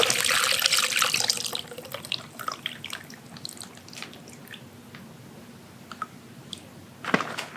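Homemade tomato soup pours through a colander into a pot, a loud wet rushing at first that thins out into scattered drips and small splashes, ending with a single louder splat.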